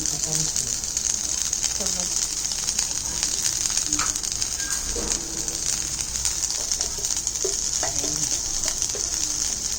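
Vegetables sautéing in a pan with no water added, a steady broad sizzle and hiss running continuously and close, with faint stirring scrapes now and then.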